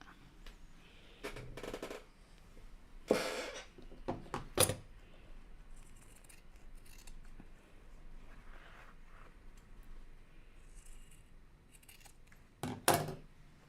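Scissors snip through fabric while a shirt is sewn, a few sharp separate cuts and short clusters of snips close by, with quiet handling of cloth in between.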